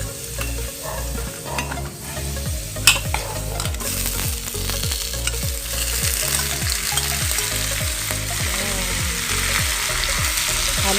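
Shrimp marinated in Sprite sizzle steadily in a hot pan, with repeated rhythmic scraping of stirring running through the clip, close and fairly loud with no talking.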